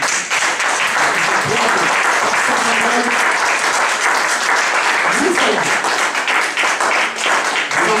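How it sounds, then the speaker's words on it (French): A church congregation at a worship service applauding and cheering, dense sustained clapping throughout with voices calling out over it, loud and close. "Alors nous allons acclamer plus fort le Seigneur."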